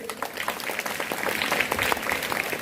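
At a government high school Independence Day function, a gathering of students and guests claps for a school committee head, a lively, moderately loud patter of many hands building slightly as it continues.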